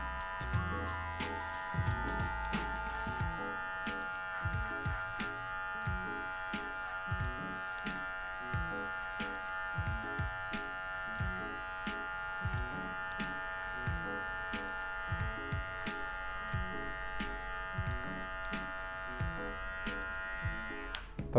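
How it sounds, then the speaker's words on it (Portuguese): A handheld electric hair clipper buzzes continuously at close range while trimming hair for a simple fade, with a steady motor hum and repeated short snips as the blades pass through lifted hair. "Só pegar com o pente aqui, levantar o cabelo e vir tirando com a máquina."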